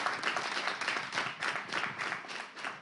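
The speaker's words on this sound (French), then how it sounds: "On les acclame." An audience at a live event applauds with dense, continuous clapping at moderate volume, heard from within the room and swelling slightly in waves.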